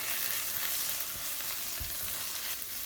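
Turmeric, chilli and coriander powder frying with okra in a pan for a Kerala ladies finger tamarind gravy, a steady dense sizzle and crackle throughout with faint stirring scrapes, close and continuous.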